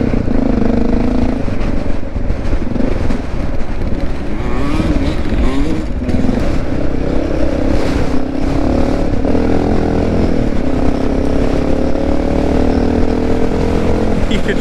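Honda XR650L four-stroke dirt bike ridden off-road at an ORV park, a continuous loud engine drone with rising and falling throttle and clattering, close up, alongside other two-stroke bikes.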